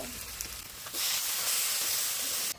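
Water is poured into a hot pan of cooking duck meat, setting off a sudden loud hissing sizzle about a second in that holds steady, then cuts off sharply near the end.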